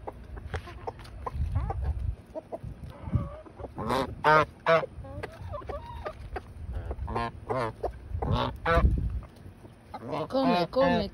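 Backyard chickens and a goose cluck and honk while eating rice with pigeon peas and plantain, with close, irregular bursts of honks and clucks and a person talking softly between them.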